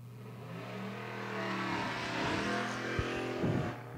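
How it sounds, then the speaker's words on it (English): Cars in a spectator drag race at Seekonk Speedway roaring as they accelerate, with a sustained engine drone rising and a sharp pop near the end, heard from a distance. "Cars roar to life down into 1."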